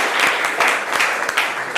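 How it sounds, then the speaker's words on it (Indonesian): Classroom applause as students clap together, a dense burst of many hands close by with no talking over it. "Ya, tepuk tangan ya."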